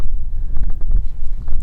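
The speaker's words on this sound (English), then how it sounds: "the wind is chucking way more than I gave it credit for" Strong wind buffeting a microphone on an Alaskan mountainside, loud rumbling gusts close to the mic that rise and fall continuously with no voice.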